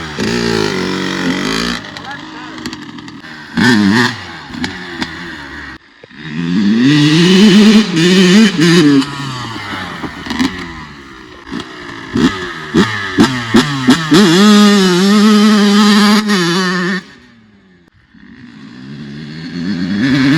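A Kawasaki KX100 dirt bike with a longer-than-stock gear ratio, its engine revving repeatedly, rising and falling in loud close bursts with short idle gaps and a rough two-stroke rasp, while someone talks over it.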